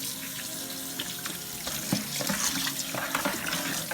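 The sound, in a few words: tap water running to wash raw chicken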